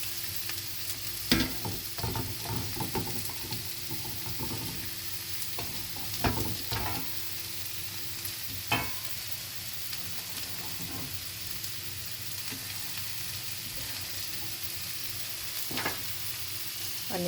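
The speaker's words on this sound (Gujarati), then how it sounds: "હવે એની અંદર આપણે આ ઓનિયન અને પેપર્સ હવે આપણે એડ કરી દઈશું." Onions and peppers frying in a pan for vegetable spring rolls, a steady close sizzle with occasional sharp stirring clacks and scrapes over the hiss, no talking.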